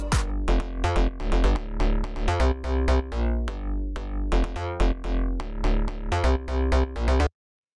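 A synth bass line for a melodic bass house track bounces in short, punchy notes with brief gaps, loud and alone, then stops abruptly.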